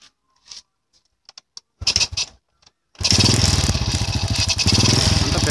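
A Honda Supra X 100 motorcycle with a newly replaced second-hand carburetor, still poorly tuned, sputters through a few scattered firings and rough catches, then starts and runs loudly, with a steady throbbing idle close by.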